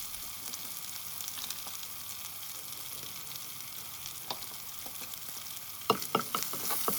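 Chilli and turmeric powder are stirred in a frying pan. A soft, steady sizzle holds throughout, with a few faint taps and then a short burst of louder scraping clatter near the end.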